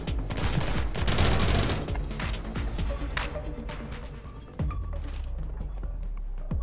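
A maxed-out Stinger gun firing in Armed Heist: a burst of rapid shots at the start, then scattered louder single cracks and impacts over game background noise.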